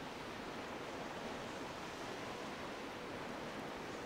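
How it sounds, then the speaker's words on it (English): Water rushing steadily into a cavern in The Legend of Zelda: The Wind Waker HD, a continuous broad wash of surf-like noise holding at an even level throughout, with no talk over it. "Now the cavern will fill with water and we should be able to make it to the other side."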